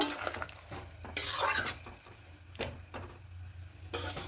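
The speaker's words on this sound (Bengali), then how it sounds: "এবার খুব ভালো করে মিশিয়ে নেব" Spice paste stirred into small fish in a pan, giving a few short scraping bursts of spoon against metal with a soft background sizzle, close and fairly quiet.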